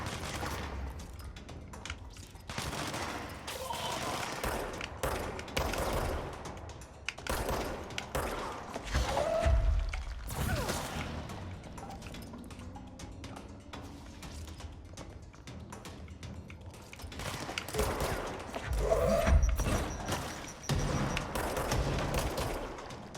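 Gunfire from the video game Control, sounding as scattered bursts and single shots among other game sounds at moderate level, with no talk over it.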